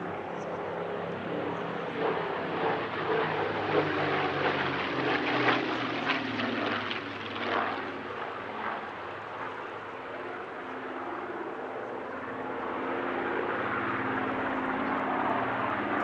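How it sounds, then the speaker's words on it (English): Supermarine Spitfire PR.XIX with rounded wingtips and yellow spinner flying at an airshow, a sustained propeller engine drone swelling and fading as it passes, with some talk. "The PR-19, the Spitfire with the rounded wingtips and yellow spinner, hasn't flown at an airshow since 2021"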